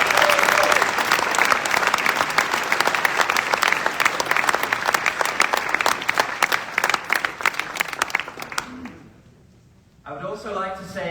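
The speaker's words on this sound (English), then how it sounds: "Let's have a huge round of applause for them all." Loud, sustained applause fills a large hall at the WorldSkills Competition closing ceremony at Messe Luzern in Lucerne, Switzerland. It fades out near the end, and a voice then speaks.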